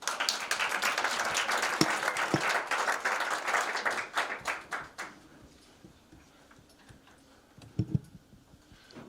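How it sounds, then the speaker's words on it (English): Audience at a Davos panel event applauding in a dense burst of clapping that thins out after about four seconds into a few scattered claps, with faint room noise and a brief thump near the end. "Big applause."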